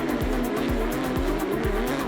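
Porsche Carrera Cup race cars run on the Long Beach street circuit, engines droning loudly with a steady, regularly pulsing rhythm.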